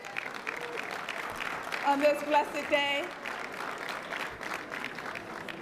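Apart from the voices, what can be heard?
audience round of applause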